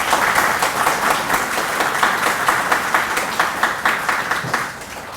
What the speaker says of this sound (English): Please join me in a round of applause for these folks.